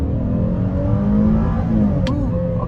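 A 2022 Chevy Traverse High Country pulls hard off the line in four-wheel drive, its engine rising steadily in a loud, close, continuous roar with tire and road noise underneath, and no talk over it.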